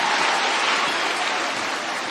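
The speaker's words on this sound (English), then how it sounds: "Wow, round of applause for our beautiful rainbows." Applause rings out for a Rainbows Girl Guides unit of three-to-six-year-olds at a Kenya Girl Guides Association ceremony, a steady wash of clapping from a crowd that fades slightly toward the end.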